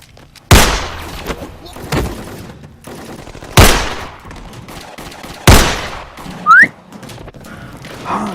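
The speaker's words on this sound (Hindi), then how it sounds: "सच में यहाँ गोलियां चल रही हैं" Several sharp gunshot cracks ring out at spaced intervals, each with a short echoing tail, over a low background murmur and a brief whistle-like tone.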